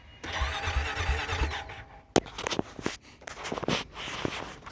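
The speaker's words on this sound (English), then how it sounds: "Okay, now to start it, and I go ahead and turn the key on. Press the starter button here at the bottom." A Honda four-wheeler ATV is started with its electric starter button: a whirring crank of about two seconds, then the engine catches and runs unevenly with sharp bursts and pauses, fairly close.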